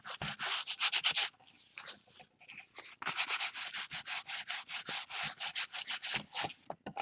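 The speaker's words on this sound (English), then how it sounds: "And I think that that's about enough sanding." A painted heart artwork being sanded by hand: a close, loud run of quick rhythmic rubbing strokes, a softer lull in the middle, then steady strokes again before tapering into a few separate scrapes.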